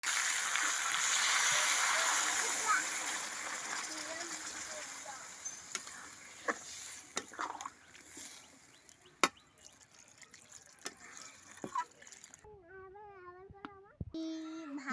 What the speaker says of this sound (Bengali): মাংসের মধ্যে জল দিয়ে দিয়েছি